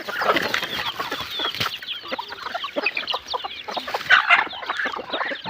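Several chickens cluck and squawk busily close by while being fed rice, rapid overlapping calls with no pause and no talking.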